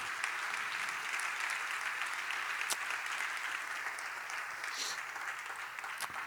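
Sustained applause from a church congregation, a thick continuous clatter of many hands with a few sharper individual claps standing out near the end.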